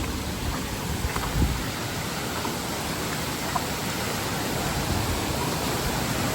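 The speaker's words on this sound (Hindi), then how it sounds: "सुकून भरा झरना" Steady, broadband rush of falling water, constant and fairly loud, with no voices.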